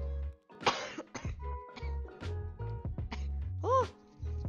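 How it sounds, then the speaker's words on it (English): A person on a Minecraft stream coughs repeatedly close to the microphone, a series of loud, rough hacking bursts and throat clearing in quick succession with brief pauses. "I'm trying not to cough directly into the mic because that's gross"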